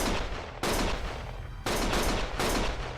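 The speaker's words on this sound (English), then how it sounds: "Stop shooting!" Gunfire in the video game Lost Judgment: three loud, abrupt bursts of shooting, close and harsh, separated by short gaps with a constant background hum.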